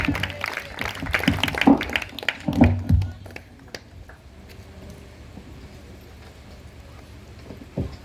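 A church congregation claps during a worship service, with dense hand clapping for about three seconds before it thins out and fades into a quieter room.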